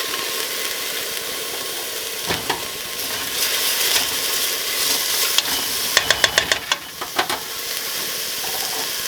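Minced garlic and tender onions fry in a pan for chicken curry with a steady sizzle, while a spoon scrapes and taps against the pan in a quick run of clicks near the end.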